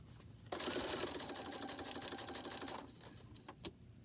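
A sewing machine runs steadily for about two seconds while stitching a zipper pouch, then stops, followed by a few faint clicks, all up close.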